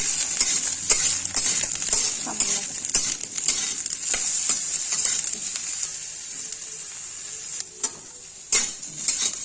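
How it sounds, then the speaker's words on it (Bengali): Cut eggplant lightly frying in oil, a soft steady sizzle with occasional stirring and utensil clicks against the pan, fairly quiet throughout. "কেটে রাখা বেগুনগুলো হালকা করে ভেজে নেব।"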